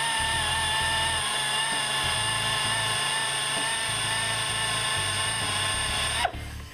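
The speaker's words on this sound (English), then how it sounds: "basically that just comes in like a great big eraser and just rubs that pinstripe off" An eraser wheel on a power tool rubs a pinstripe sticker off a car's paint, a loud steady high-pitched whine that holds unbroken for several seconds and then cuts off abruptly.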